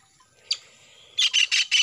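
Tengkek bird chicks, four of them just out of the nest, give a short, high, close chirp followed by a quick run of four shrill cheeps.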